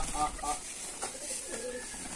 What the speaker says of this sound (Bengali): দেখুন আমার হাতের উপরে কিভাবে বসে আছে সাদা কবুতরটা